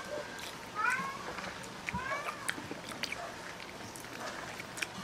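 A domestic cat meows a few times, short rising calls near the start and middle, over a busy indoor background with faint talk.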